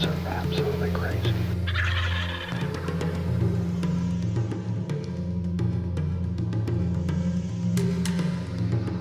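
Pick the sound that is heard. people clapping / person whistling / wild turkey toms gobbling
wild turkey toms gobbling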